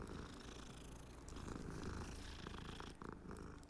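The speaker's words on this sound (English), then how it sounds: "look at the design on this cat." A cat purring in the Hogwarts Legacy video game, a steady, continuous rumbling purr that runs without a break, soft and close with no talk over it.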